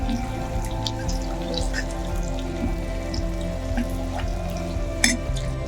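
Onions frying in a pan, a steady crackling sizzle with scattered pops, continuous and close throughout, with a sharper spike near the end.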